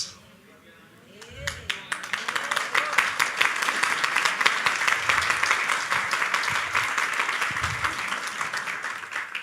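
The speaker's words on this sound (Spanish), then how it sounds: "¿Ustedes sí se están dando cuenta de qué están aplaudiendo?" Applause from a church congregation swells after a quiet start, becoming sustained dense clapping that carries on steadily to the end, with a voice faintly audible beneath it.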